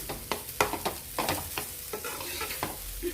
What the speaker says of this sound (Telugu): అలాగే క్యారెట్ ఫ్రై వేగుతుంది